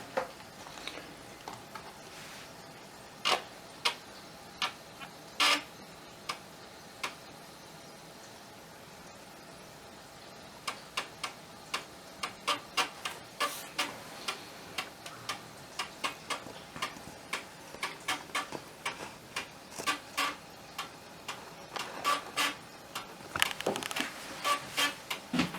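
An Amiga 1200 floppy drive with a disk inserted, giving sharp mechanical ticks that come sparse at first, then fall quiet, then return as a denser, irregular run of clicks over a low hiss.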